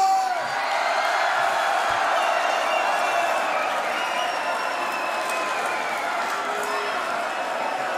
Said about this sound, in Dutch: ik wil graag een ongelooflijk oorverdovend applaus voor Jesse Moore